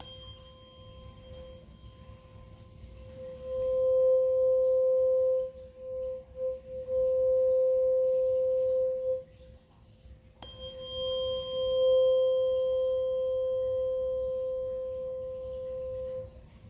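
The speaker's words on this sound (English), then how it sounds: "this is 528HZ, one of my favorite sounds" A pure, steady 528 Hz sine tone holds for several seconds, cuts out briefly, then resumes at the same pitch, clean and unwavering.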